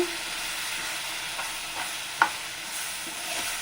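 Mango rava laddu mixture is stirred in a pan over low heat, making a continuous close sizzle and scraping hiss with a couple of sharp clinks from the spoon against the pan.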